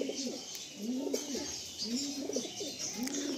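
Giribaj pigeons coo repeatedly in a loft, a rhythmic series of soft, rolling calls close by, with a constant faint hiss in the background.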